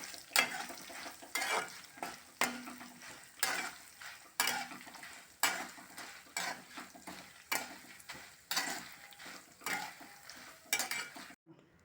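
Dried red chillies are roasted and stirred in a pan, with quiet rhythmic scraping strokes about once a second over a faint sizzle.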